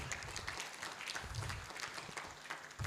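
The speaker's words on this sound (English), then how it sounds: "A round of applause" A crowd at a tech conference claps steadily in a dense, continuous round of applause for a newly named national ambassador, with no clear voices above it.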